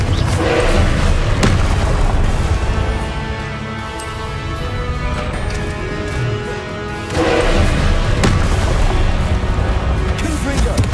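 Confringo blasting spells from Hogwarts Legacy explode again and again, booming with heavy low thuds in a roughly periodic rhythm. Loud bursts come near the start and again after a brief lull, over a dense, sustained game-audio bed.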